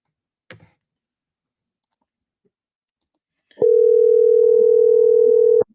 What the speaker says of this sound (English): Let me try calling here, see if they pick up the phone.